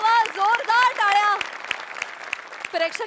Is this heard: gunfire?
no